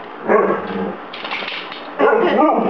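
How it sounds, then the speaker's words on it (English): A pet dog barks repeatedly on an indoor floor, close and loud, in a few rough bursts over a steady room background, with no talk over it. "He's just being a dog."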